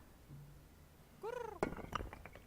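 A cartoon cat in the point-and-click adventure game Edna & Harvey: Harvey's New Eyes gives a single rising meow, followed by a few light clinks and clatters, all at moderate volume.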